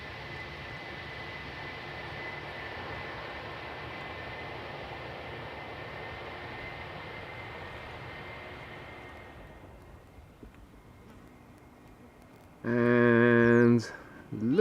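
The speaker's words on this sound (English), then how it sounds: "KLM Embraer 175 arriving from Berlin up next." KLM Embraer 175 jet airliner arriving at Schiphol's Polderbaan runway, a steady broad roar of engine and air noise that fades after several seconds, followed by a brief louder tonal burst near the end.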